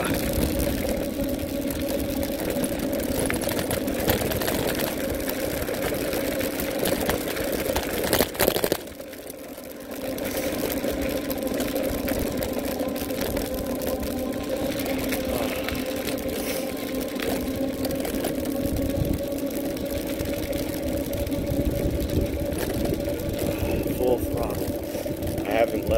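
Vehicle engine running steadily on the road, a continuous mid-pitched drone that stays loud throughout, briefly dipping about a third of the way in before resuming.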